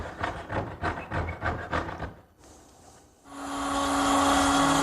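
A wooden tenon for a desk breadboard being hand-trimmed, about six rhythmic scraping strokes close by, then a brief pause before a steady, loud machine whine takes over.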